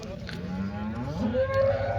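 Cattle at a weekly cow market in Chintamani: a single drawn-out moo that bends in pitch, with a low murmur of the market behind it.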